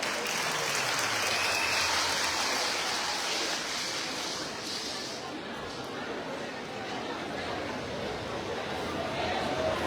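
A crowd at a political candidates' presentation for RHDP legislative elections at a cultural centre in Abobo applauds steadily and loudly, a dense wash of clapping and cheering that continues for the whole stretch.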